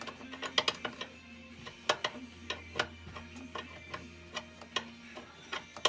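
Bolts on a 1996 Ford Thunderbird radiator being tightened by hand with a ratchet, giving rapid irregular clicking and ticking with sharper metallic clacks, close and alone with no talk.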